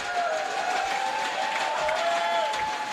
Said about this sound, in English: Let's hear it in the crowd.